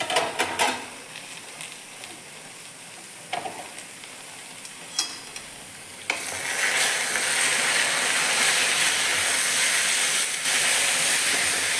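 Moringa leaf stir-fry being stirred in a pan, with scattered scraping clicks at first, then a steady loud sizzling hiss that fills the rest of the clip.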